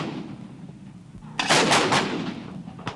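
Artillery fire from a field artillery brigade: after a low rumbling lull, a loud blast erupts and is followed by a rolling, crackling report that fades slowly.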